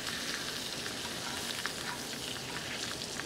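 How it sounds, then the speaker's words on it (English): Turnips, carrots and parsnips fry in hot bacon fat in a pan, giving a steady, bright sizzle with crackling pops throughout, close and even, with no talk. "The bacon's cooking pretty hot. I'm going to go ahead and add the turnips, the carrots, and the parsnips."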